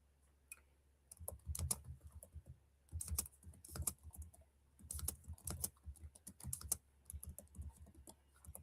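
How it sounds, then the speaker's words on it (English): Quiet keyboard typing in irregular bursts of rapid key clicks, separated by short pauses, close to the listener with no talking. "I'm just typing something here in the chat."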